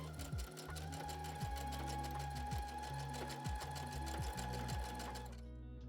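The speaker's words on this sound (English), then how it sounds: "going back and forth over your zigzag stitch a few times" A sewing machine makes zigzag stitches back and forth over an elastic waistband on trousers, a close, steady mechanical whir with a rhythmic rattle that repeats briefly and then stops.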